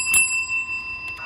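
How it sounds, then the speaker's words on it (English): A small toy bell from a kids' Happy Meal toy set gives a bright metallic ring that lingers and fades, followed by a second softer ding near the end, heard up close. "Alright, then here's the bell."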